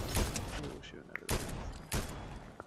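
Gunfire in a video game with bot opponents, several sharp, close bursts in quick succession mixed with game effects.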